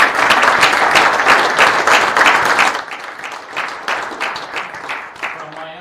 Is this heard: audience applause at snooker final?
yes